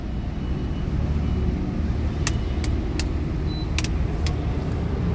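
A Toyota Urban Cruiser running on a CNG kit idles with the air conditioning on, giving a steady, even low engine drone with no RPM fluctuation, plus a few faint sharp ticks partway through.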